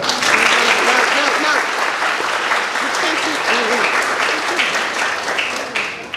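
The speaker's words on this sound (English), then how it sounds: "How about a round of applause?" An audience gives steady, dense applause at an indoor fifth grade moving-up ceremony for the Manorhaven class of 2026, holding loud and even throughout with voices murmuring underneath.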